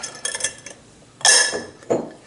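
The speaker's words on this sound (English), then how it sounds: "close the lid" A lid is closed on a glass fermentation jar after cleaning, giving a few light glassy clinks, then a louder scraping clatter and a final sharp knock, all close by and with no voices.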